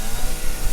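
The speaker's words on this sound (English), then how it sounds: "use the chainsaw as intended to open the door" A chainsaw in Resident Evil 7, used to cut open a door, roars in a steady, loud buzz throughout, alone with no talking.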